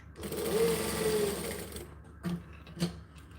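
A sewing machine stitches towelling fabric in a close, fairly quiet burst of rapid mechanical whirring lasting under two seconds, followed by two short stitch bursts.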